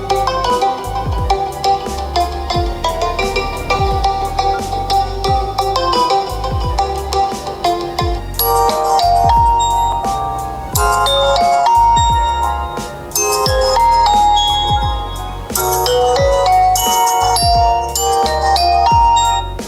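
Music playing loud from the Ultra Boom speaker of a Realme 10 phone, a bright melodic ringtone-like tune with a strong beat that fills the whole stretch, with no talking over it.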